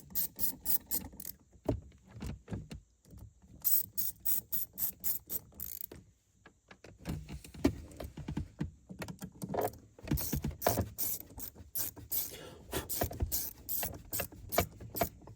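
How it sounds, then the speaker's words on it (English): A ratchet wrench tightens small metric bolts on a CMM Offroad shifter in a Jeep JK, giving rapid close clicking in bursts with a short pause midway and no speech. "We'll tighten all 8 of these bolts."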